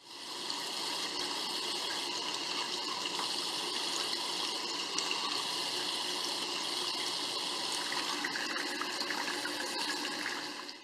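Water pushed by a submersible pump flows continuously into a tank in a pavilion study model, a steady, close rushing and splashing stream that stays even from start to finish.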